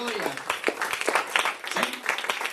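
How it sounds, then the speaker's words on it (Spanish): Congregation applauding during a church service, a dense patter of many hands with voices mixed in throughout. "¿Cuánto le damos una ofrenda de aplausos al Señor?"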